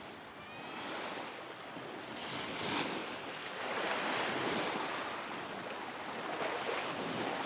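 Steady wash of waves and surf on the shore of a lagoon in the Aegean, with constant wind across the microphone, while someone speaks over the water.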